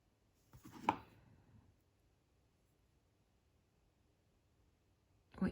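Wire cutters snip through a short jewellery metal rod for a bracelet charm with one sharp close click, preceded by faint handling rustle and followed by a second brief clack near the end, otherwise quiet.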